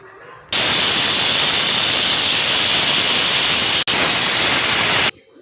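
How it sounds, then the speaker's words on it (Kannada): A pressure cooker cooking Kabuli chana chicken curry lets out a loud, continuous hissing whistle for nearly five seconds, with one brief break, then stops sharply. "ನಾನು ಇದನ್ನು ಕುಕ್ಕರ್ ಮುಚ್ಚಳ ಮುಚ್ಚಿ ಮೂರು ವಿಷಲ್ ಈಗ ಇದು ಮೂರು ವಿಷಲ್ ಬರಬೇಕು"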